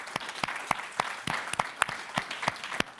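Audience at a military forum at Georgetown clapping, with sharp, separate claps standing out in a steady spaced rhythm, moderately loud, nearby and without talk.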